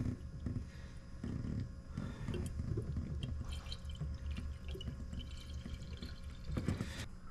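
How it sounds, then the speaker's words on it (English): Coolant bubbles and gurgles inside the auxiliary cooling system of a 2020 Chevrolet high country, a steady close churning liquid sound with irregular pops and surges throughout. "we're starting to discontinue the bubbling process."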